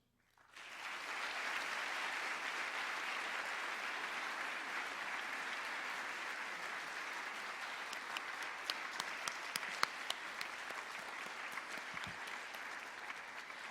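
An audience breaks into steady, dense applause after a talk by Mike Fotenopulos, the clapping rising quickly and holding strong for over ten seconds, with a few sharper individual claps standing out near the end.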